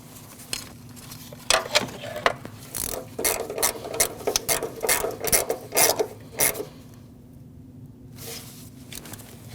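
A ratchet clicks in quick bursts while snugging a heat shield nut on a Jeep Cherokee 2.4L engine, the rasping strokes close and irregular, then pausing before a final stroke.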